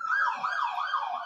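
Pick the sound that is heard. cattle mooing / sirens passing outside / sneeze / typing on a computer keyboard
sirens passing outside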